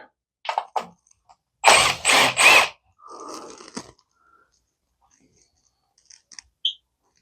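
An impact driver drives the last screw on a woodworking piece in three short loud bursts close by. Quieter rustles and handling noises come before and after it.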